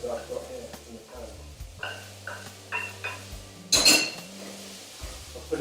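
A sausage mix heating through in a pan on a high burner while being stirred, with soft scraping and clinks of utensil against the pan, one louder clatter near the end, and a low background hum.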